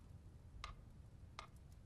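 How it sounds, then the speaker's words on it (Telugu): A quiet clock ticks twice, evenly spaced, in an otherwise hushed room with faint background hum. "ఈ టికింగ్ శబ్దం వినపడుతుందిగా"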